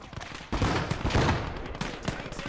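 Artillery shells landing in the WWII strategy game Gates of Hell: Ostfront, heard as a dense, sustained rumble of overlapping blasts and crackling fire, loud and continuous with a few sharper hits standing out.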